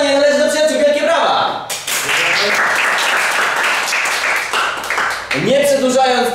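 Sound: game show studio audience applause

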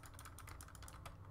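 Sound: computer keyboard key pressed while playing a game

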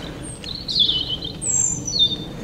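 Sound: small bird singing

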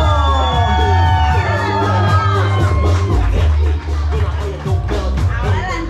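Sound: wedding party crowd applause and cheering

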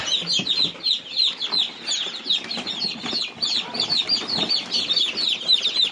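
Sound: chicks calling in coop

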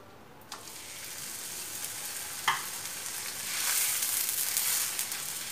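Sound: roti frying in oil on a hot griddle

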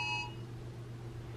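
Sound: Amber Alert phone alert beep

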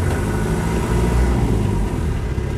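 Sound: Land Rover 110 2.5D engine running

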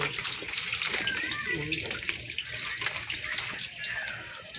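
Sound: water poured into pot to soften jackfruit

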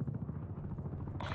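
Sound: enemy attack helicopter overhead in the video game Call of Duty Cold War

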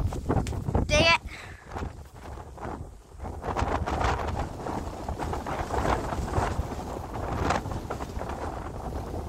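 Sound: strong wind blowing outdoors

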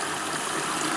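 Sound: Bosch washing machine filling with water

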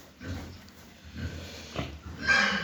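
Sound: pigs grunting

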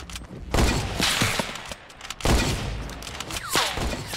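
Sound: gunfire shooting at player in video game

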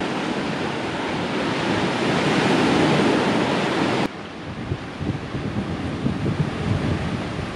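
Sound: wind rising with waves on island shore

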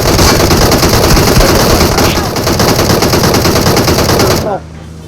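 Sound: gunfire in PUBG Mobile video game

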